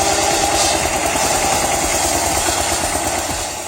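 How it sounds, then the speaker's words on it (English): A tractor engine drives a homemade circular-saw portable sawmill, its loud, steady, rumbling drone running unbroken throughout, close and with no voices. "By repurposing a tractor engine and a circular saw blade within a homemade frame, they've essentially created a portable sawmill."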